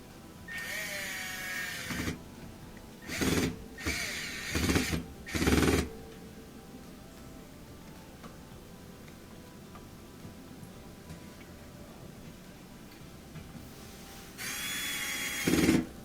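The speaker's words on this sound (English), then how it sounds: "I'll go ahead and add the 2 Phillips head screws back in" Power screwdriver driving Phillips head screws into a Whirlpool washer motor while changing the motor brushes: several short whirring bursts, close and fairly loud, then a long quiet pause before one more run.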